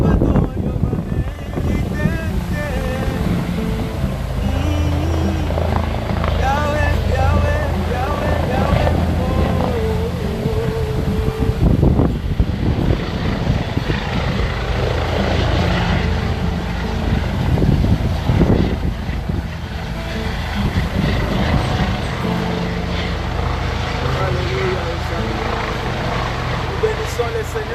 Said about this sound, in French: Le bruit que vous entendez là, il y a un hélicoptère de masse qui vient d'atterrir.